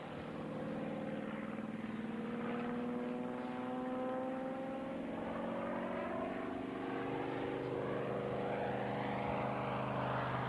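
Propeller-driven agricultural aircraft making a low pass at a 1999 ag aviation reunion air display, a steady loud engine drone with harmonic tones that shift in pitch as it passes, continuous throughout with no talk.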